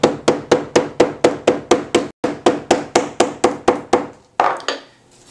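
A hammer taps repeatedly to round a book spine, about twenty crisp, evenly spaced knocks close by with one brief pause midway, then two final taps.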